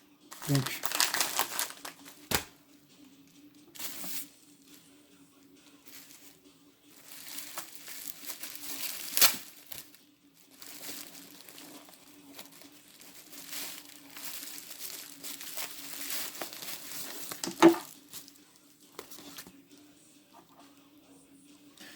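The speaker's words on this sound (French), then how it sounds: "on va déballer, hein, comme ça je vous montre." Packaging for Baggy 3S batteries is unwrapped, giving off bursts of plastic crinkling and crumpling, some loud and some faint, across a quiet room with a steady low hum. A person speaks between the handling sounds.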